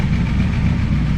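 A 1988 IROC-Z Camaro engine idles steadily, a loud close, continuous low rumble with an even, unbroken drone.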